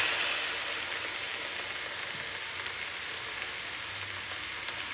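Steak frying in a hot pan gives a steady, bright sizzle that stays loud and even throughout, with no voices.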